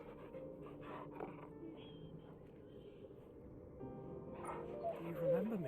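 A dog in the video game Final Fantasy XVI pants and lets out soft whimpers and yips amid background game sounds and music, with a voice speaking alongside.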